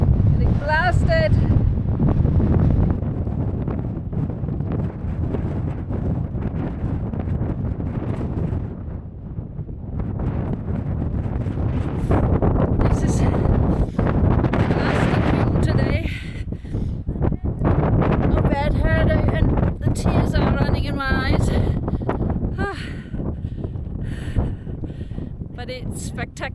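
Strong wind roars without letup across the Paso Pehuenche mountain pass between Argentina and Chile, buffeting the microphone loudly and close for the whole stretch, with voices breaking through now and then.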